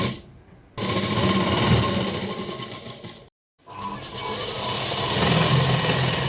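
Domestic sewing machine stitching saree fabric into a ghagra, a steady mechanical whirr running in two bursts separated by a short pause.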